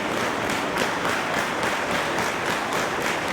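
A wrestling crowd cheers and claps for Jake Crist as he gets back to his feet, a steady dense wash of applause and crowd noise from start to finish.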